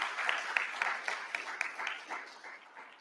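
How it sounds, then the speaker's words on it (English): Audience applause for a panel at a cybersecurity pre-conference event, a dense patter of many hands clapping at moderate volume that gradually tapers off over a few seconds, with a few sharper individual claps standing out. "One more round of applause."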